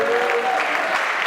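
Audience applause and cheering at a live comedy-style show, a dense wash of clapping with raised voices, loud and continuous through the short stretch.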